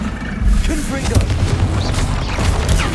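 Confringo spell blasts in the video game Hogwarts Legacy come as repeated booming impacts and crashes during a chaotic fight, loud and dense with rumbling low end, while a voice speaks through the action.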